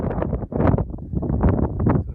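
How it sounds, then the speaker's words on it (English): Close, heavy wind buffeting hits the microphone in rough bursts on an exposed hilltop at the ancient site of Mycenae, Greece, a blustery low roar that surges and dips over a couple of seconds. "Yeah, very windy up here suddenly."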